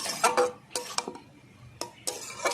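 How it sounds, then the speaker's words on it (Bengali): A metal lid clinks and clatters onto a cooking pot of red amaranth greens in a village-style kitchen, a few sharp close taps and scrapes separated by short quiet pauses. "আবার একটু ঢেকে দেব"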